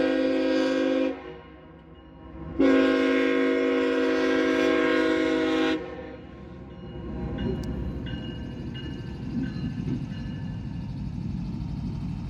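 A CSX coal train in eastern Kentucky, heard with loud sustained horn blasts in two bursts, then the low steady rumble of railcars rolling past close by.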